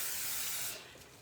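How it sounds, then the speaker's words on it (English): Cooking spray hisses in one steady, close burst onto a waffle maker while a breakfast chaffle is being made, then cuts off and leaves faint room noise behind. "Spray."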